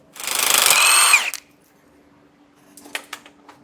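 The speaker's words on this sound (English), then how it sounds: "this is going to require a 9/16 socket. Get these all broke loose." A power impact tool spins briefly, loud and close, loosening U-bolt nuts with a 9/16 socket on an RV axle steering stabilizer bracket. A few faint metallic clinks follow after a pause.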